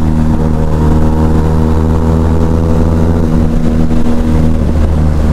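Deep, loud exhaust rumble from a barrel-exhaust Benelli TRK 502 motorcycle, running continuously near the listener with slight rises and dips in revs and no speech.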